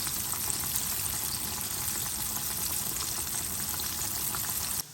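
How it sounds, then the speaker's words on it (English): Steady, dense crackling and sizzling of chicken frying in hot oil, continuous and fairly loud throughout, then cutting off abruptly at the end. "so while that chicken is frying"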